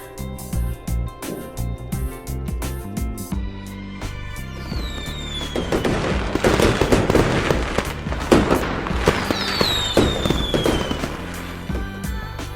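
A fireworks sound effect with a fast run of crackling firecracker pops. It builds into dense, loud bursts with whistling rockets rising through them and booms under the crackle.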